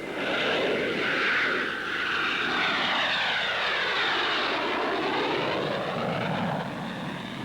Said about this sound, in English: Orville and Wilbur Wright made man's first 4 controlled flights in a powered airplane